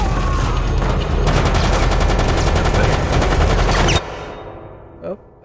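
Loud, dense gunfire in the shooter game Resident Evil: Operation Raccoon City, a sustained run of rapid shots for about four seconds that cuts off abruptly, followed by a few faint trailing clicks.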